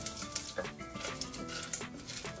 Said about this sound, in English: We'll fry this for a little while